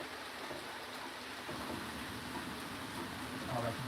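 Heavy rain pouring down outside, a steady dense hiss that stays loud and even throughout, with faint low rumbling underneath.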